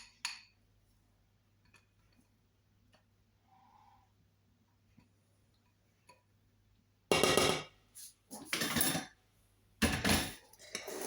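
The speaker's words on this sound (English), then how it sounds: "And then I am going to mix it through the salad more." Utensils clink and scrape against a bowl as an old Dutch beetroot salad is mixed, with loud bursts of clattering after a long quiet stretch that holds only faint ticks.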